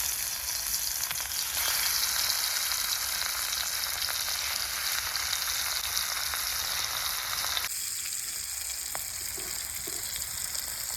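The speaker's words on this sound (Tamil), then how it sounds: "அப்படியே எடுத்து பொரிக்க வேண்டியதான்" Fish pieces deep-frying in hot oil for a fish fry, a steady, even sizzle that continues throughout with a slight drop in level partway, no voices.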